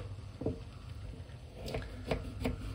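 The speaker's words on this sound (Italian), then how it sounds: "taglio le carote" Carrots being chopped with a knife in a home kitchen while vegetables cook for a vegetarian curry; a few sharp knife strikes land in quick succession against a soft background hiss.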